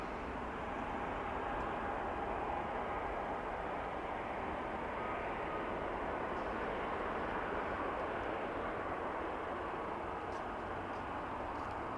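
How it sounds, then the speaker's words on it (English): A UPS cargo plane departs Toronto Pearson Airport at night, heard as a faint, distant, steady jet rumble that holds evenly throughout. "that UPS just disappeared into the sky like a rocket"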